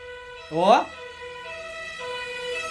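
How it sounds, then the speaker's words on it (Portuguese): An ambulance siren passes outside: a brief rising wail followed by faint, steady tonal sounding in the background, with people talking nearby. "Eu vi, passou ali, foi ambulância."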